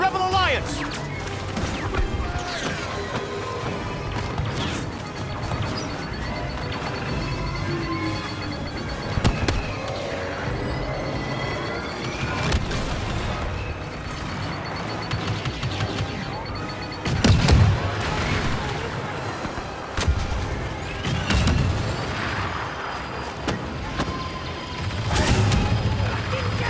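Explosions and gunfire from a Star Wars Battlefront II battle on Hoth, with repeated crashing blasts and grenade detonations over a dense, continuous mix of weapon fire and in-game voice callouts.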